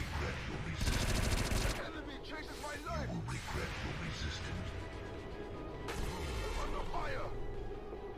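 Rapid video-game gunfire from XCOM 2 squad combat, several loud bursts of automatic shots with mechanical clatter between them, heard alongside spoken commentary.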